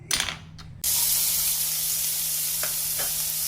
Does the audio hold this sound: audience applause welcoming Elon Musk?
no